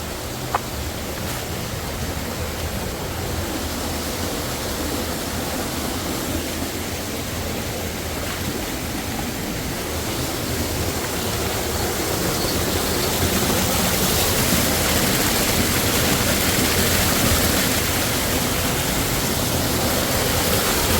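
Waterfalls in Chikkamagaluru rush in a steady, dense roar of falling water that fills the whole scene, swelling slightly louder toward the end, with no voices.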